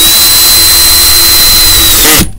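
A power screwdriver whines loudly and steadily up close while driving screws into drywall on an attic chimney enclosure, then cuts off abruptly near the end.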